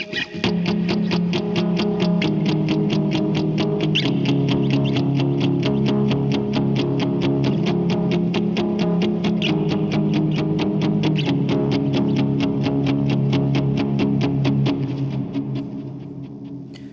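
Distorted electric guitar plays a steady lead line with rhythmic picked notes for most of the passage from a song's verse 2, fading out at the very end.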